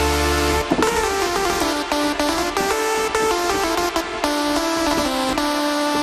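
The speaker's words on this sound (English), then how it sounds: "it's a lot of reverb now." Music in Cubase run through a plugin with an exaggerated, heavy reverb effect, sustained tones and notes smearing into a long, dense wash that fills the whole stretch with no talking.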